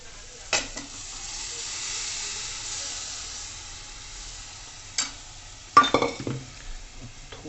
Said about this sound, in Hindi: बस अब इसमें मिलाते हैं दाल।